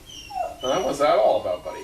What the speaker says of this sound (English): The pups want to get back in here, and they're whining a bit